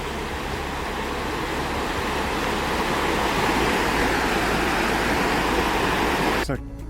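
A river in northern British Columbia rushes beneath a bridge in a continuous broad hiss that swells slightly, then cuts off abruptly with a click near the end.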